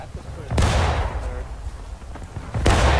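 Musket volleys in the War of Rights video game, with two loud sharp cracks rolling into echoing booms and scattered distant shots between them, while voices talk throughout.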